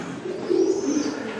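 Racing pigeons cooing inside a loft, a single soft, low, rolling coo rising in the middle, fairly close against a quiet background.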